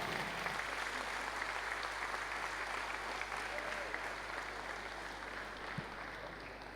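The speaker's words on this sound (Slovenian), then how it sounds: "In velik aplavz, odlično." Applause rings out at a school graduation ball, a sustained, fairly loud wash of many hands clapping that holds steady across the whole stretch, with a low hum running underneath.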